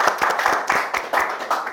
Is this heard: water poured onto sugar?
no